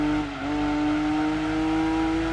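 A racing car engine in Gran Turismo 2 on PS1 drones at high revs with a steady whine, briefly dipping and then climbing again, loud and close throughout.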